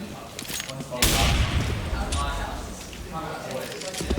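Grenade kill in a Counter-Strike: Global Offensive LAN grand final on Dust2, a sharp burst of blast and gunfire breaking in abruptly, then scattered shots and rumble under a commentator talking throughout.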